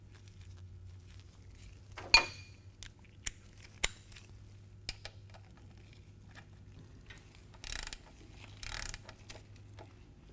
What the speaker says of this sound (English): I like to start it by hand and then snug it up with my socket wrench